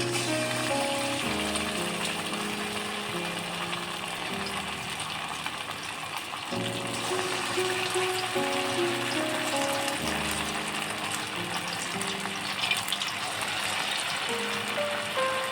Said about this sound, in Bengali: তেল গরম হয়ে গেছে, এবার বড়া ভাজবো।